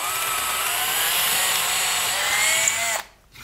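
A drill with a 3/16-inch bit bores into a wooden gunwale for doweled deck beam joinery on a skin-on-frame boat, a steady close whine running about three seconds before cutting off abruptly.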